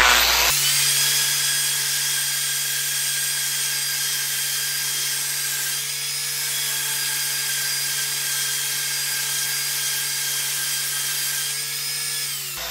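A high-speed grinder with no guard spins up on metal being shaped into a fret leveling file, a sustained, loud whine with strong steady tones that dips slightly midway and cuts off abruptly at the end.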